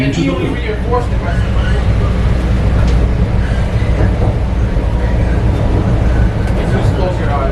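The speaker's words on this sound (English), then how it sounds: "This is a pink line train to the loop." Chicago CTA Pink Line train rolling toward the Loop, a steady loud rumble and rattle of the rail car heard from inside, with people talking over the continuous clatter.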